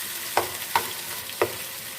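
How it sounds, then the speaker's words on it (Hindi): Chicken frying with onions in a pan for biryani, a steady sizzle broken by three distinct scraping knocks of a stirring spoon, close up and with no talking. "प्याज के साथ ही हम चिकन को भी फ्राई कर लेते हैं।"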